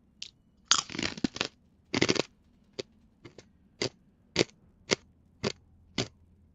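Crunchy snack being eaten close to a microphone: a quick burst of loud crunching bites, then a run of sharp, separate crunches at a steady pace, each one crisp and alone.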